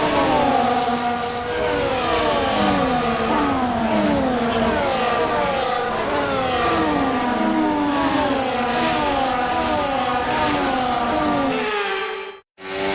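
A pack of Formula One cars on the formation lap in Brazil in F1 24, engines droning and rising in pitch together in overlapping waves, loud and continuous, cutting out abruptly near the end.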